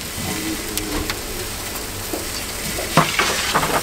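Food sizzling over a wood fire in a traditional oven in Tarsus, a steady crackling fry with a few louder spits and pops near the end, close and alone without talk.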